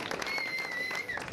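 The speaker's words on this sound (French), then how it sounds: "Voilà, on peut l'applaudir" Spectators at the La Marmotte cycling event podium applaud a rider, fairly faint scattered clapping heard at a distance beneath a voice and a thin whistle-like tone.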